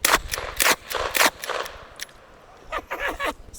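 .380 pistol fired rapidly at targets, a quick string of sharp close cracks in two bursts with a brief gap between them.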